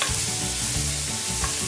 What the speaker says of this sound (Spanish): así vamos a estar friendo bien bien hasta que nos quede bien transparente nuestra cebolla